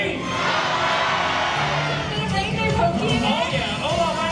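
Crowd of passengers on a cruise ship on an Alaska voyage cheering and clapping on cue, a loud, dense roar of voices and shouts with applause mixed in, busy and close throughout.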